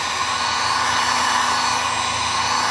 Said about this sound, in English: I took the heat gun and ran over it and kind of dried it real good